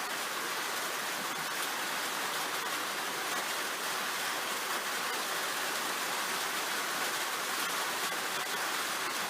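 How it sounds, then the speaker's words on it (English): Steady, dense rain falls without a break, a broad even hiss that fills the whole scene at a constant level, with no voices. "Listen to that rain."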